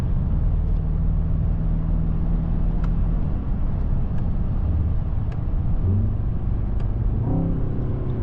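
A Mercedes-AMG S63 E Performance sedan cruises on a freezing road, its steady low engine drone and road rumble heard from inside the cabin, with a brief rising rev near the end.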